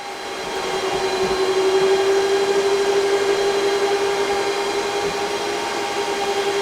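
ASIC cryptocurrency miner fans ramp up: steady whirring swells and holds at a constant high hum with a sustained tonal whine, loud and continuous with no talking.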